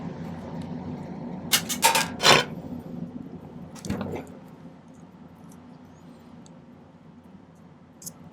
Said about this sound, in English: So I'm going to spend a little time filing this to get it to fit in there